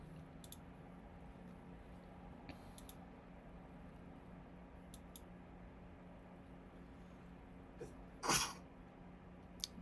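A single sharp sneeze bursts out near the end, somewhat off-mic, against a quiet room with faint background hum and a few small clicks.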